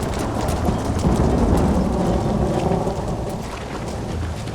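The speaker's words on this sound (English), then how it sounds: "The storm's getting worse." Thunderstorm ambience from the Western video game Red Dead Redemption: steady heavy rain hisses while deep thunder rumbles and swells, peaking midway before easing back into continuous downpour.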